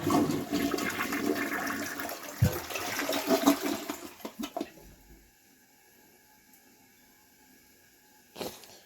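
A toilet flushes nearby in a loud rushing swirl of water that gurgles for about four seconds, then fades to a quiet refilling trickle, with a brief knock near the end.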